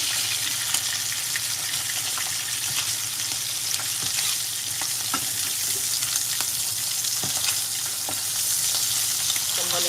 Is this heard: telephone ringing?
no